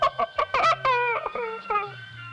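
Hen clucking in a comedy film scene, a quick series of short nasal clucks and squawks that sound close and loud, with no one talking.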